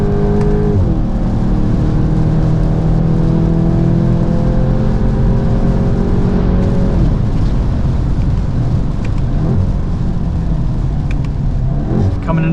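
A 2025 Volkswagen GTI with a DSG gearbox accelerating hard around the Road America track, heard from inside the cabin as a loud engine note rising in pitch, dropping at a shift and climbing again under steady road and wind roar.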